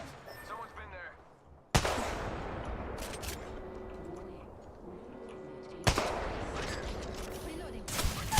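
Loud gunfire from 30-30 rifles in a first-person shooter video game, two sharp, heavy shots several seconds apart with dense game noise and rumble in between, plus a lighter crack at the end.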